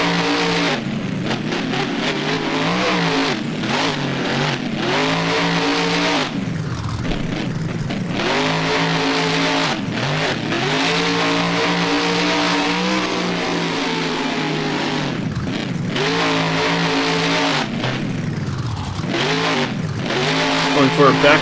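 Monster trucks revving and driving hard in the BeamNG driving simulator during a freestyle run at Soldier Field, engines roaring continuously with rising and falling revs, with a commentator talking over them throughout.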